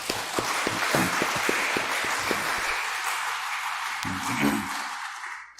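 A church congregation at a Sunday service at Okto Methodist Church claps together in a broad, sustained wash of applause. Sharp individual claps stand out early, and the sound fades out toward the end.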